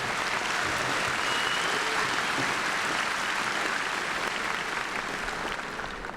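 Sustained applause from a large audience at a spring 2018 university commencement at ULM, a dense, even wash of many hands clapping that stays loud throughout and eases slightly at the end.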